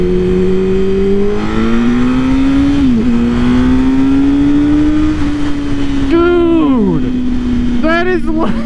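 A 2000 Honda CBR929RR motorcycle engine runs loud and close, its idle climbing and falling through several blips of the throttle, with sharper revs rising and dropping near the end.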